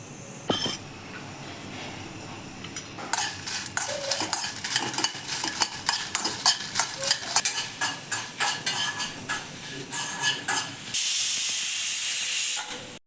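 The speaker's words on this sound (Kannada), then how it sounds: "ಒಣಮೆಣ್ಸಿನ್ಕಾಯಿ ತೊಗೊಂಡಿದ್ದೀನಿ ಇದನ್ನು ಒಂದೇ ಒಂದು ಅಷ್ಟು ಎಣ್ಣೆ ಹಾಕ್ಬಿಟ್ಟು ಹುರ್ಕೋತಾ ಇದ್ದೀನಿ" Dry red chillies fry in a little oil in a home kitchen, Mandya-style upsaru cooking, with crackling sizzle and repeated stirring taps, then a loud steady hiss near the end.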